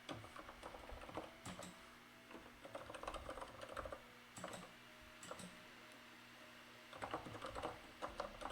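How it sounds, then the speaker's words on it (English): Quiet, steady typing on a mechanical keyboard, with clusters of crisp clicky keystrokes broken by brief pauses, heard close up and alone. "Clear for Lou, you do prefer the mechanical keyboard sound."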